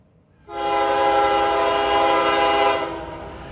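A train sounding its horn as it passes, a single loud sustained chord blast that starts abruptly, holds for about two seconds, then fades, with no talking.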